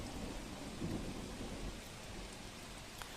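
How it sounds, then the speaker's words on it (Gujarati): A thunderstorm with wind and heavy rain over the village area of Jasdan in Rajkot: a dense, steady rush of downpour with low rumbling thunder, faint and continuous, no voices. "પવન અને ગાજવીજ સાથે ધોધમાર વરસાદ વરસ્યો"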